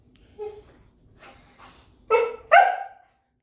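A dog barks twice in quick succession near the end, loud and close, after a few softer yips and whimpers, with the dog apparently left alone by a pickup truck.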